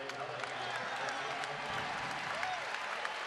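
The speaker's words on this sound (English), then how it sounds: "Jake Omer gets a nice round of applause." Basketball arena crowd at a UTEP versus Western Kentucky game applauding a player, a steady wash of clapping with crowd murmur and faint voices underneath, fairly distant and even throughout.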